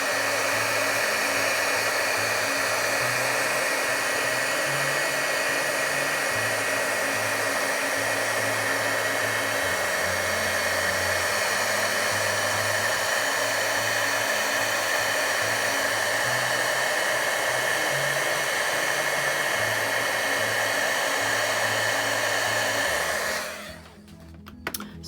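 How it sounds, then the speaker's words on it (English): A heat gun blows steadily over silver embossing powder on a poinsettia card image, a loud continuous whooshing hum with a faint motor whine that holds for most of the stretch and then cuts off near the end. "I'm moving my heat gun around."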